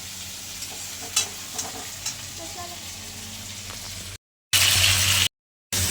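Tomato, carrot, papaya and potato frying in a pot for chicken stew: a steady close sizzle with a few clinks of stirring, then broken by short gaps of silence and louder bursts of frying.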